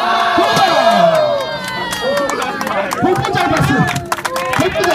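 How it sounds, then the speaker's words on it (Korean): A crowd at a Hongdae street challenge event cheers, shouts and claps loudly for several seconds, with excited voices overlapping throughout. "박수."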